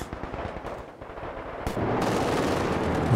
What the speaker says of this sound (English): It's alright, we got a Bren gun that'll keep them back.